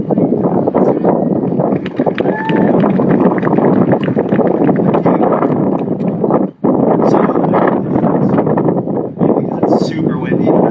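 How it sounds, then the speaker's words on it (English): Strong wind buffets the microphone in a constant loud rumble at an outdoor skate park opening, with faint voices underneath. "Super windy."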